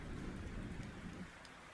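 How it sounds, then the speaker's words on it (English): A thunderstorm rumbles low and steady under dense rain, fading slightly toward the end, with no voices. "I just love the sound of thunder."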